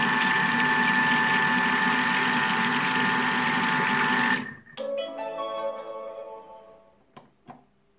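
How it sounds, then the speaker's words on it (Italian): A Thermomix TM6, TM5 or TM31 kitchen machine runs with a loud steady motor whir while whipping oil into mayonnaise, then stops abruptly, leaving fading mechanical rattles and a couple of faint clicks. "L'olio scenderà lentamente all'interno del boccale e monterà perfettamente la maionese."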